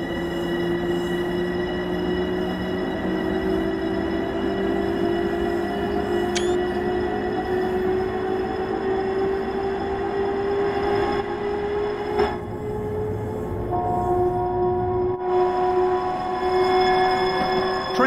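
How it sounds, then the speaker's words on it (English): Long Island Rail Road M7 electric multiple unit, four A and B coach pairs, heard from onboard while riding: a steady loud rumble of wheels and motors with sustained tonal whine and occasional squeal, no talk. "You are currently riding an M7 electric multiple unit formed of four A and B coach pairs."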